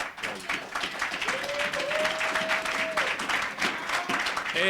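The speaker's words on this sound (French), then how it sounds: "Vous pouvez applaudir pour..." Church congregation applauding for Sarah Bonamy, steady clapping throughout with a sustained musical tone rising underneath midway and faint voices mixed in.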